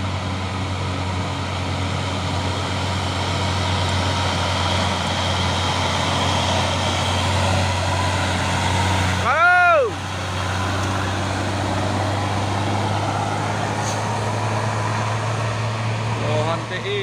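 A loaded CPO tanker truck and a dump truck grinding uphill, their heavy diesel engines droning as a steady low hum with a brief passing whoosh midway, captured from nearby roadside.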